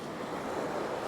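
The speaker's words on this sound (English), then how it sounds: "That was a big wave." Steady rushing surf noise at Nai Thon Beach, Phuket, Thailand, with a broad wash of water and wind, no voices, constant and fairly close throughout.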